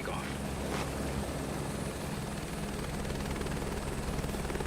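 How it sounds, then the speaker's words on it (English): Aircraft engine in Microsoft Flight Simulator 2024 spooling for takeoff, a steady loud rotor-like drone with broadband roar holding constant throughout. "We're ready for takeoff."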